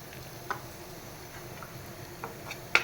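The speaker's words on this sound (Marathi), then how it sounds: "ही मोहरी पण छान अशी तडतडली आहे" Mustard seeds, fennel seeds, curry leaves and asafoetida tempering in hot oil for a capsicum dish, a low, faint sizzle with a few scattered sharp pops and crackles spread across the moment, heard alone without talk.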